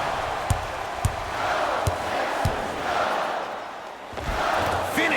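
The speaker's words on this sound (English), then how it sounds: "I'm hearing some boos from the crowd." Crowd in an NBA Live 19 basketball game booing and roaring steadily for about five seconds, with sharp ball-bounce thuds on the court at regular intervals and no talk.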